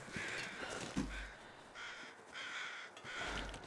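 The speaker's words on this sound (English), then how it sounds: "I hear more crows." Crows caw repeatedly in The Long Dark, several harsh calls in broken bursts spread across the scene, moderately loud over a faint ambient background with no talking.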